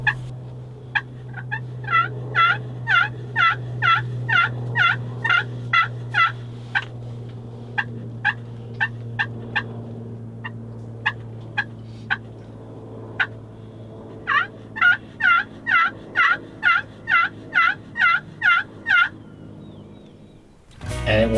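A wild turkey gobbles repeatedly at a distance, rapid warbling bursts in a steady series over a low constant hum.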